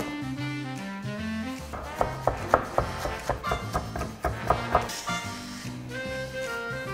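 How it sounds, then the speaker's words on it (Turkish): Knife chopping parsley and fresh mint on a board, a quick series of crisp taps in the middle of the clip under steady background music. "İç harcı için maydanoz ve biraz da taze nane kıyacağım."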